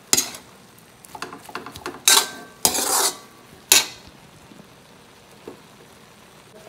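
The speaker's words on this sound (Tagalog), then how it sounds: "Continuous lang natin sa pag-stir" Spoon scraping and clinking against a pan while stirring bopis with soy sauce and vinegar, a few sharp metallic strokes between quieter gaps, close and alone with no voices.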